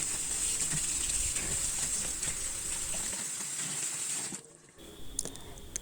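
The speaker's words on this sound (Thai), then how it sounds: "ค่อยๆล้างให้สะอาด" Steady hiss of running tap water with light splashing, as water spinach is rinsed under the stream; the flow cuts off near the end.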